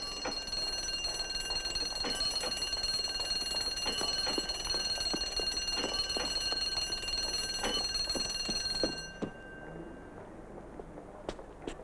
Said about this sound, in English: They just tested the alarm.